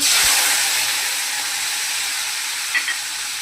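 Salted, turmeric-coated prawns dropped into hot oil in a kadai, a loud steady sizzling hiss that slowly settles, with a small clink near the end.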